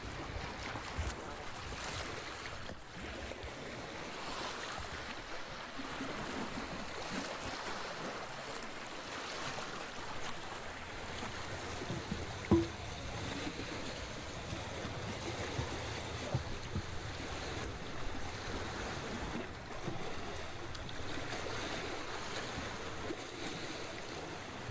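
Lake water washing in continuous low waves with steady wind rumble, a soft, even wash of surf heard alone at moderate distance.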